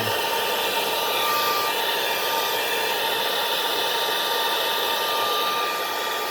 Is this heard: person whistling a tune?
no